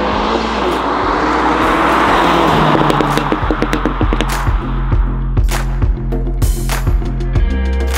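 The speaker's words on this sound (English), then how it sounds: "Today is the day I'm getting my race exhaust installed on my Mini Cooper." A loud Mini Cooper engine with a race exhaust roars and rises, then settles into rhythmic, repeated revving pulses, close by and dominant throughout.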